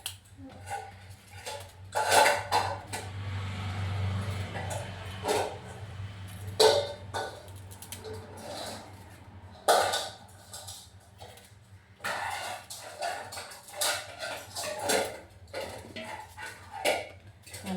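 Okra being sliced on a board in a home kitchen, a string of sharp knife taps and clatters in irregular bursts, close and fairly loud over a low steady hum.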